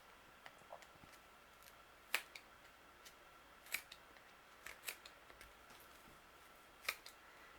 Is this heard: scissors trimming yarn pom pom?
yes